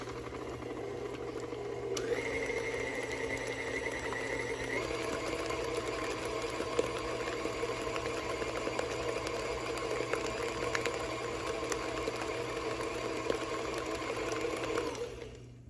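An electric mixer whirs steadily through cheesecake batter, a continuous close motor drone with a slight rise in pitch partway through before it winds down at the end.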